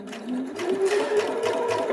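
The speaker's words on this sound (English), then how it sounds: "I can sew a couple stitches forward and I can stop" A PFAFF Performance Icon sewing machine stitches forward in a steady, rapid mechanical whir with rhythmic needle clatter, close and clear throughout with no talk.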